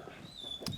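A 9-year-old shelter dog gives a short, faint whimper, a soft high whine rising briefly near the end over quiet room background, with no talking.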